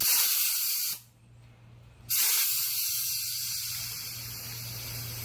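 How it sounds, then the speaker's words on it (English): A pressurized Tint Hozilla sprayer tank releases its pressure in a steady loud hiss, which cuts out briefly for about a second, then resumes and continues alone. "you're going to need to release the pressure with the release ring on top"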